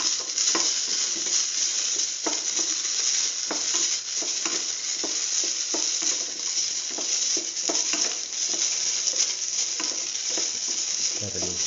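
Ash gourd and egg stew sautéing in a pan, a loud, continuous close-up sizzle punctuated by regular scraping stirs of a spatula, with a brief clatter at the end and no voices.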